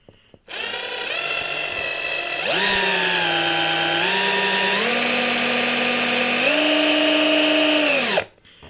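A Festool TXS 10.8V cordless drill spins up and runs steadily for about eight seconds, its whine close and loud, stepping up in pitch a few times before it cuts off abruptly.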